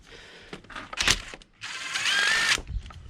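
Power driver fitted with a T15 bit undoing screws on a Ford B-Max during a service, two bursts of whirring motor separated by a short pause, close and loud with no talk.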